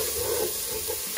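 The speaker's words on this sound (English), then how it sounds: "I put the bacon in first because the bacon takes longer to cook than the onion." Bacon and onion frying in a pan, a steady close sizzle with faint stirring scrapes and no speech.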